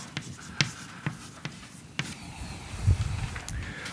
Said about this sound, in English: I should write it here